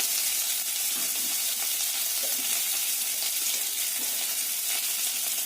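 Potatoes with turmeric fry in a pan, making a constant, fairly loud sizzle with occasional soft stirring knocks and no talking.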